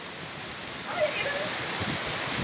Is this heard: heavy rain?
yes